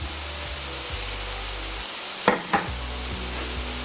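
Duck fillet sizzling steadily in a hot pan, a constant close frying hiss with a couple of brief louder spatters in the middle.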